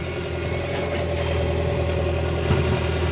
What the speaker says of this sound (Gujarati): તો ગાઈસ અત્યારે આ જીસીબી હાલે છે